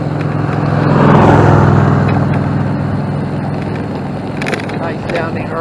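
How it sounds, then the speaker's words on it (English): A Harley-Davidson motorcycle rumbles past riders on recumbent bikes along a trail, its loud engine swelling and then fading beneath wind noise and a bit of talk. "Nice sounding Harley."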